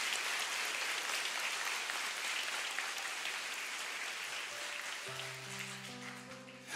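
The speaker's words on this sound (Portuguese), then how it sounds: "Pode aplaudir, é a tua igreja." Church congregation applauding in a steady, dense wash of clapping filling the space, with a sustained organ or keyboard chord entering near the end beneath the applause.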